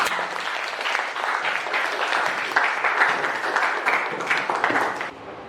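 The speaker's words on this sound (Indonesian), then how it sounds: "kita beri aplaus untuk Arisal." Classroom applause for a student during a Grade 10 geography lesson on mapping: steady, dense clapping from many hands that runs without a break for about five seconds and then tapers off.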